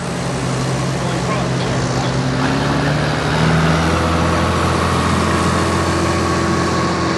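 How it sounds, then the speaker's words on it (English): International 726 tractor running at a tractor pull in Langford, New York, a loud continuous engine drone with steady tonal hum, heard amid outdoor crowd noise and voices of people talking. "we got Herb Yeager coming out here now from North Collins with an International 726"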